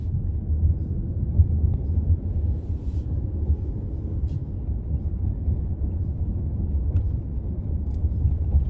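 A 2025 Mercedes-Benz E450 wagon on the move, giving a steady low road and engine rumble from inside the cabin, even and unbroken throughout with no talk.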